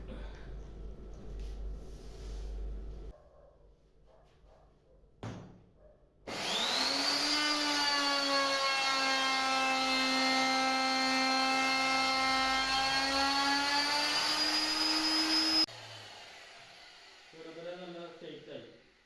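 A wood router cuts through a board with a loud, sustained high-pitched whine lasting several seconds. Quieter handling sounds come before and after the cut.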